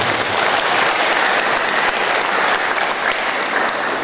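A crowd applauds at a public debate for the 2015 Ngada regent and deputy regent election, a loud, dense and unbroken wash of many hands clapping that holds steady for about four seconds.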